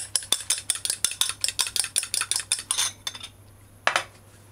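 Fork whisking eggs in a bowl, a rapid run of sharp metallic clinks against the dish that stops after about three seconds, followed by one final tap; close and clear with no speech.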